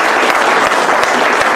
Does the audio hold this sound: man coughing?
no